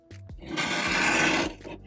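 A Westcott Easy Cut guillotine trimmer blade drags across fabric with a single rough, rasping slide lasting about a second, close and fairly loud, bracketed by small clicks and knocks of the trimmer.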